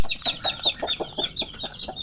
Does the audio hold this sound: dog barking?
no